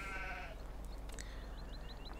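Sheep bleating in the farming game Landwirtschafts-Simulator 15, a few short wavering calls over a low steady hum, fairly faint and without talk.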